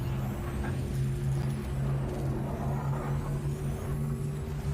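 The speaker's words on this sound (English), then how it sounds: "Yep, here comes the car" A car in a video game drives in, a steady engine drone with a low hum and a whirring tone, holding constant and fairly loud throughout with no voices.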